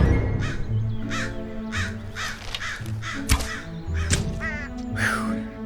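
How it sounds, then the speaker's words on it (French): Crows caw repeatedly in short, harsh bursts at an uneven pace, fairly close, over a low background hum. "la compagnie se réveilla au doux son des corneilles"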